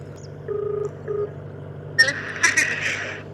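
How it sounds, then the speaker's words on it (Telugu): Two short electronic tones, like telephone dialing beeps, sound over a steady low hum, then a burst of brighter clattering noise follows. "మనము వీరికి ఫోన్ చేసే ప్రయత్నం చేద్దాం"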